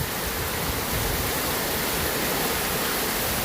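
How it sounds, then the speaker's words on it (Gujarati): Heavy rain falls in an unbroken, dense hiss that stays loud and constant from start to finish, with no voices. "આખી રાતથી આમ જોવા જઈએ તો વરસાદ ચાલુ છે ફૂલ"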